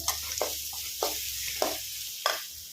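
Green chillies and salt frying in a pan for raw mango chitranna, a soft sizzle broken by four evenly spaced stirring scrapes, moderately quiet and close.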